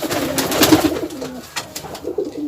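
Soft, low pigeon cooing repeats in short rounded phrases, close by, with faint rustling and background noise around it.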